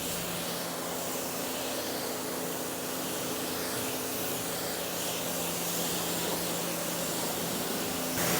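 Continuous hissing water spray rinsing a ceramic coated vehicle, loud and steady throughout with a faint underlying hum, no voices.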